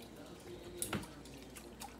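Water poured into a cooking pot on a home kitchen stove for a chicken bouillon broth, a soft close splash and drip with a few brief splashy bursts over low background noise.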